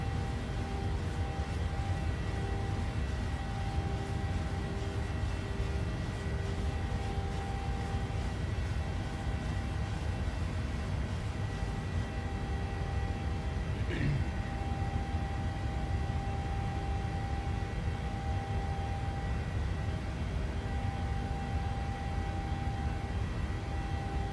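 The engines of a PMDG 737-700 departing Osaka in Microsoft Flight Simulator produce a steady broadband roar that holds even and unbroken throughout, without speech.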